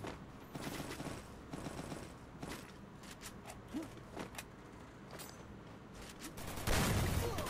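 A shooter game fills the space with rapid, scattered bursts of gunfire and metallic clicks. The shots are moderately loud and keep coming, and a heavier burst lands near the end.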